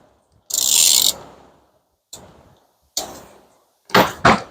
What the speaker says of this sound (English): I'm using a 1/2 inch ratchet.